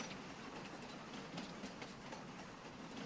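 A BNSF freight train rolls past in the farming video game Farming Simulator 25, making a faint, steady rumble with a soft rhythmic clatter of wheels. It stays continuous throughout with no speech.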